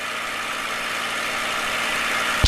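A P-51 Mustang's piston engine drones loudly and steadily in flight, a continuous cockpit roar with a brief thump at the very end.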